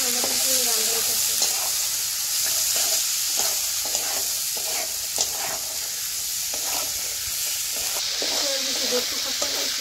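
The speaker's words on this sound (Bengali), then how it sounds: "একটু কষা নিয়েছি, আলু দিয়ে আর একটু কষানো" Soya chunks and potatoes stir-fried in hot oil in a pan, with a steady close sizzle and repeated scraping stir strokes throughout.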